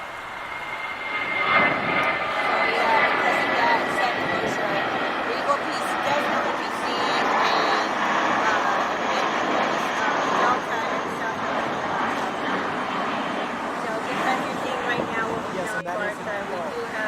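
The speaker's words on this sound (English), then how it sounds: "I believe that's a Delta 767-300. Yes, that's one of our 767s." A Delta Boeing 767-300 jet fills the airport air with a loud, sustained engine roar and rumble, while people talk over it throughout.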